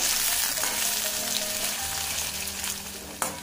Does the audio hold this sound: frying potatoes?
yes